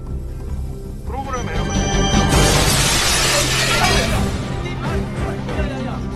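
Glass shattering in a film heist scene, a loud crashing burst of breaking glass over music and other soundtrack noise, with speech present.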